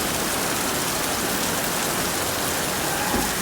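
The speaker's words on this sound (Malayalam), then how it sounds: "നല്ല മഴയും പെയ്തപ്പോൾ" Heavy rain pours down on Tirur market in a dense, unbroken hiss that stays loud and even from start to finish.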